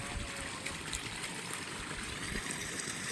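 Irrigation water runs steadily through an earthen channel into onion and garlic field beds, a continuous close rushing trickle with no pauses and no voices.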